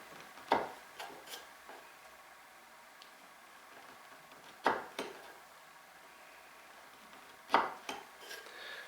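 A chisel chops a mortise in oak, with three sharp, sparse strikes, each followed by lighter taps and bounces, close and clear in a quiet workshop with no talking.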